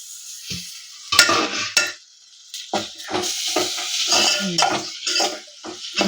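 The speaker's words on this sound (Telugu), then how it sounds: "ఇది టమాటా వేయాలి ఇప్పుడు ఇక టమాటా గోలాలు మంచిగా" Tomatoes stirred and fried in a pan for a gram flour puri curry: a spoon scrapes and clatters against the pan in short repeated strokes over a soft sizzle, close and fairly loud.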